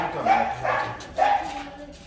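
A dog barks three times at moderate distance near an abandoned, dry rural home, each bark sharp and spaced roughly half a second apart, with no talk over them.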